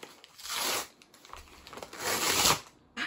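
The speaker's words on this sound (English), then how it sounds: "So let's start opening these packages." Book mail packages being torn open by hand, a run of ripping and crinkling bursts of paper and plastic wrapping, close and moderately loud with brief pauses between pulls.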